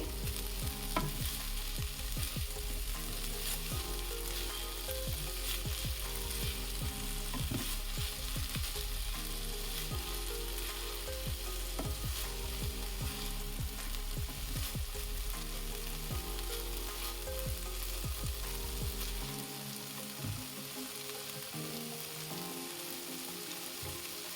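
Green chilli curry sizzling steadily in a pan on a meatless, onion-, ginger- and garlic-free cooking day, with a spoon scraping and stirring through it in uneven bursts; continuous close frying hiss with no talking.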